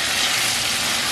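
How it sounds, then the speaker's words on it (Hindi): Chicken frying in a pan for butter chicken, giving a steady, even sizzle throughout, close and moderately loud with no talking. "फ्राई हो रहा है।"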